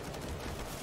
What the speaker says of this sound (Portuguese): o Kerrigan segurou junto ali, tomou os tiros